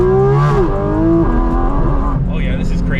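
Loud, close engine note from a Porsche GT4 RS Weissach on the move, its pitch rising, dipping and shifting as it pulls through the gears, with the cabin full of sound throughout.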